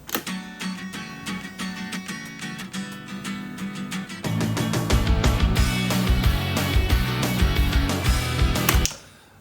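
A guitar riff sampled from an older rock song, looped into a house track. It plays continuously, with a denser, louder section entering halfway with heavy low-end beats, then stops abruptly near the end.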